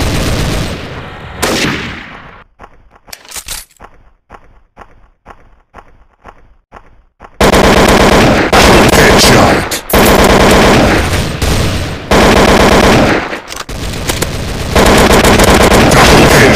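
AK-47 assault rifles firing in a Special Ops video game match set in a library: a run of evenly spaced single shots, then long, loud, dense bursts of automatic fire.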